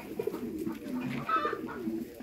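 American giant pigeons coo close by on a breeding farm, soft throaty rolling calls repeating over a steady low background.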